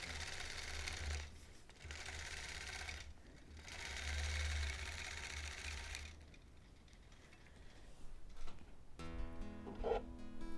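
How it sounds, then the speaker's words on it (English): A sewing machine quilts a Double Wedding Ring topper in several rapid stitching runs, each a few seconds long, broken by short pauses and followed by lighter handling clatter at the end. "I'm going to stop talking for a bit and just head down and get some sewing done."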